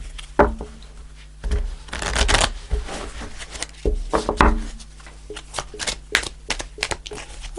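Tarot cards are shuffled by hand in a rapid run of crisp slaps and riffles, close and fairly loud, with uneven bursts of card noise throughout and no talking.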